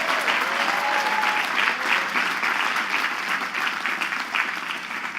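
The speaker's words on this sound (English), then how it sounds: "Please give a big round of applause to the Queens College class of" Steady applause from a crowd at a college commencement fills the whole stretch, dense and even clapping with no pauses, fairly loud and close.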